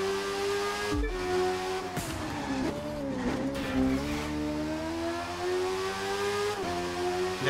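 Racing engine in The Crew 2 video game, a loud high-revving whine that climbs and drops with gear shifts, with a brief tire screech, continuous and without talk.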